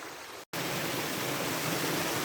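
The 70-metre Polikar waterfall, about 1450 metres above sea level, roars in summer as a dense, steady wash of rushing water. The sound cuts out briefly near the start, then continues loud and unbroken.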